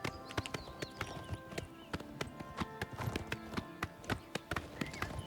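A horse galloping in Oblivion Remastered, with rapid, regular hoofbeats thudding close by at a steady running rhythm over soft ambient game sound.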